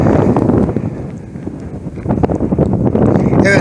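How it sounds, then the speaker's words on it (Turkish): Steady wind buffeting the microphone, a constant low rumble that dips briefly midway, with faint indistinct sounds underneath. "burası yılın 365 günü rüzgar alıyor"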